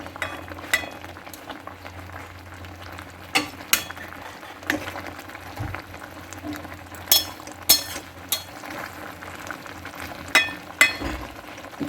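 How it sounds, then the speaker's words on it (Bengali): Katla fish curry simmering uncovered in a pan on a gas stove, a low bubbling bed broken by sharp clinks and knocks of utensils at irregular moments, no one talking. "এভাবে একটু ফুটে গেলে মাছগুলো অলরেডি সেদ্ধ হয়ে গেছে।"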